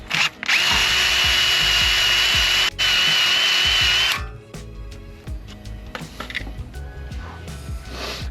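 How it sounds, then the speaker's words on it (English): A wire brush spun by a drill scrubs a Honda Civic Type R part near the driveshaft, giving a loud, steady whirring grind for about four seconds with one brief pause, then stopping with lighter clattering handling noises. "So just get a wire brush on a drill or something."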